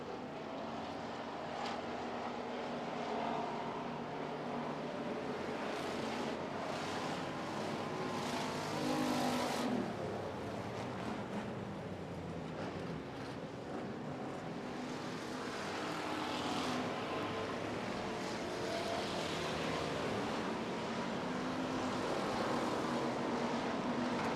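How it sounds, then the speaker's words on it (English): Street stock race cars lapping a dirt racetrack, a continuous loud engine roar with passing surges and whines from several cars, steady throughout with no voices. "Cars spread out all over the racetrack."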